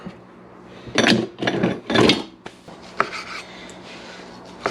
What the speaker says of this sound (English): I'm just going to slice these into basically bite-sized chunks.